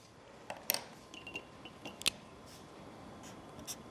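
A sentence being written on paper, with soft, scratchy pen strokes and a few sharper taps spread through a faint background hiss.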